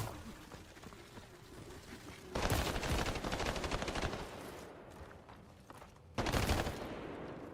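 Gunfire in the video game Highguard comes in two dense bursts of rapid shots, each lasting a second or more, over a steady background of game sound.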